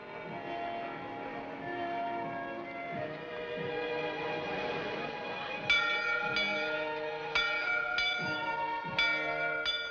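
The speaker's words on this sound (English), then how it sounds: "Bell. I always liked bells." A church bell rings out in a frontier town, with repeated clear strikes in the second half that follow a swelling music score; the bell tones ring bright and resonant, several evenly spaced peals decaying over the background.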